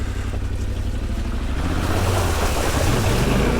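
A motorbike on road tyres splashing through a shallow river crossing on a gravel track, a rush of churning water and spray swelling louder midway, with engine rumble underneath.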